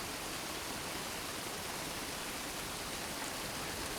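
Steady rain falls in a dense, even hiss that stays constant and moderately quiet throughout, with no voices or other sounds.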